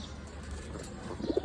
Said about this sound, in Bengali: এক পেয়ার সাদা কবুতর।